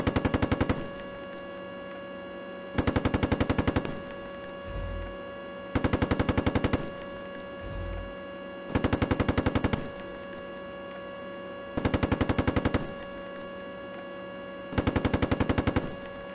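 Loud machine gun fire in repeated short bursts of rapid shots, spaced about every three seconds across the stretch, with low thuds between some bursts and no talk.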